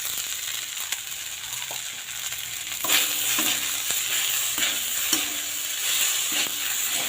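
Leftover cooked rice with pieces of fried egg frying in a pan, a steady sizzle broken by repeated metal spatula scrapes and taps as the rice is stirred, close and without talk.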